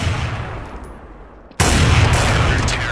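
A sniper rifle shot in Counter-Strike: Source on a desert temple map: a single sharp, loud report bursts in after a quiet stretch and leaves a dense, sustained roar of game noise.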